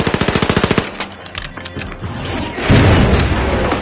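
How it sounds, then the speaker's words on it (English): In the video game The Finals, a rapid burst of automatic gunfire rattles loudly, then gives way to scattered clanks and mechanical clatter before a heavy, booming flashbang blast rolls out and lingers. "Using a flashbang."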